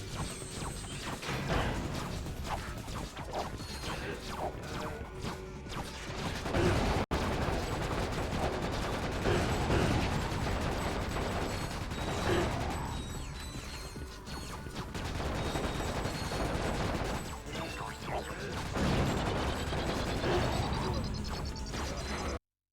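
A Nitro launcher fires in the video game Ratchet: Deadlocked amid a dense, loud mix of game explosions, mechanical clatter and music that runs nearly nonstop before cutting out abruptly at the end.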